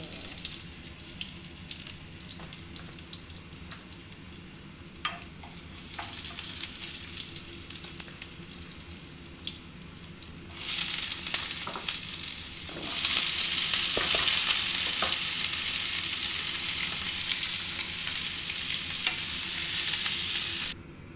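Chayote and mixed vegetables stir-fry in a pan with a steady close sizzle and occasional scraping of the utensil, the frying growing noticeably louder and hissier partway through as more ingredients go in.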